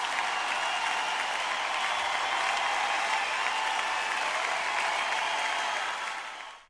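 A large concert crowd applauds in a dense, steady roar of clapping that holds evenly for several seconds before fading out at the end.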